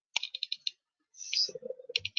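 Computer keyboard clicking: a quick burst of a few sharp key taps, a short pause, then a brief clatter and a couple more taps, close and fairly quiet.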